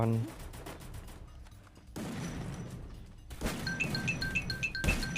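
Shotgun blasts from the mobile battle-royale game Free Fire, a few sharp loud bursts separated by gaps, with game effects and tonal chimes around them.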